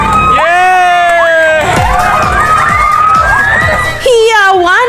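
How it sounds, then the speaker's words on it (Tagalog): Residents in Leyte cheer, shout and clap as electricity returns after six weeks of darkness following Typhoon Odette, loud excited voices and screams with sharp claps close by, filling the whole stretch. "Hiyawan at palakpakan ng mga residente nang sa wakas, nagkaroon na ulit sila ng kuryente."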